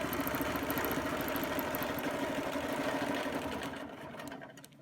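Sewing machine stitching a quilt in an all-over Baptist fan design, a steady close whirring hum with fast needle chatter that slows and fades near the end.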